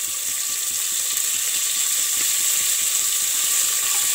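Mixed vegetables frying lightly in a pan, a steady close hiss of sizzling oil that holds evenly throughout without talk.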